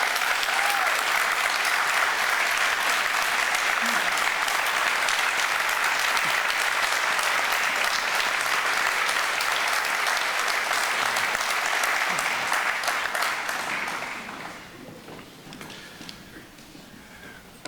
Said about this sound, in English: please give Nina a round of applause